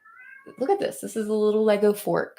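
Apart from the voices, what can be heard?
cat meowing, upset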